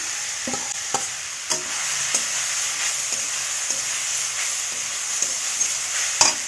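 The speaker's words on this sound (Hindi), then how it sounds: "इसमें हम डालेंगे छोड़ा को ग्रेस करके जो रखे थे फ्राई करने के लिए" Grated dried dates fry in a spoonful of ghee, giving a steady close sizzle with regular scraping strokes of a spoon against the pan.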